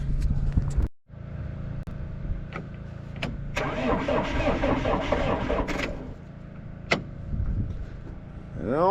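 An engine cranks with the starter whirring, nearly catches, then winds down, heard close and fairly loud with clicks before and after.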